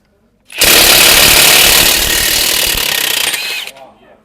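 A Profitec cordless impact wrench, a 2100 Nm model, hammers loudly and continuously for about three seconds as it works to loosen a stubborn nut, then cuts out and winds down.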